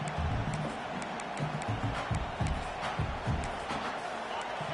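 A stadium crowd at a college football game keeps up a dense, broad roar with scattered bangs and shouts rising and falling throughout.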